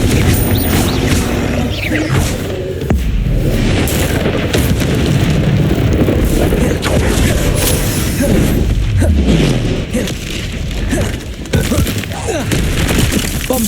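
Repeated Confringo fire-blast spells in Hogwarts Legacy, a string of booming explosive bursts and crashes over continuous battle noise, loud and dense with a few distinct heavy impacts.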